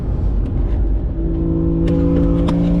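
A BMW F22 M240i's B58 turbocharged engine is held at a steady brake-boost launch, giving a loud, droning hum with a few brief sharp bursts near the end. No one speaks.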